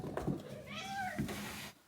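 Cats meowing close by indoors: one or two short drawn-out meows over quiet background noise, with no talk.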